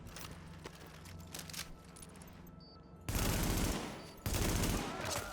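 Gunfire in the video game The Division, first a steady crackle of shots under ambient game sound, then two loud, dense bursts of rapid automatic fire close up, briefly broken by a pause.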